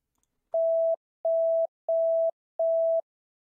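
Four identical steady electronic beeps of a dispatch priority alert tone sound in an even rhythm, each about half a second long, with short silences between them.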